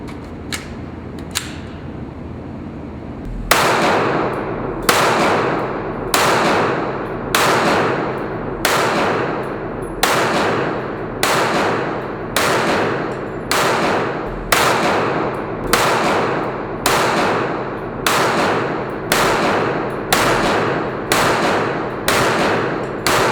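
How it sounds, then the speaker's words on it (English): Kel-Tec PMR-30 pistol firing at an outdoor shooting range: a few spaced shots, then a steady rapid string of about seventeen loud, sharp reports at a regular rhythm, each with a short ringing tail, no talking. "we'll go to the range for a practical shooting test"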